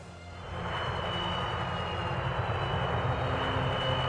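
Lancaster bombers in the strategy game Rise of Nations give off a steady, droning piston-engine roar that swells in over the first half-second, then holds continuous and fairly loud.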